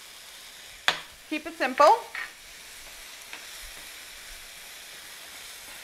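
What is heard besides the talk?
jarred minced garlic frying in pan with ginger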